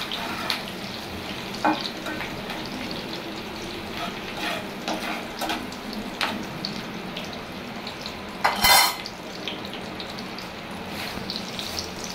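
Soft sizzling of chopped onion, garlic and dried chillies frying in a pan, quiet and steady with occasional clinks and a brief louder splash of hissing near the end.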